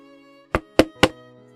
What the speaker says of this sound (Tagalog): marinig niya ang pamilyar na katok